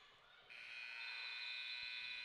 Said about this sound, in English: And that is the buzzer to end this half